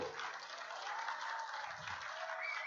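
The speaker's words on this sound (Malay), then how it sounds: "Kita berikan tepukan" Crowd clapping at a Malaysian political rally speech, a steady, fairly faint wash of applause heard from a distance throughout.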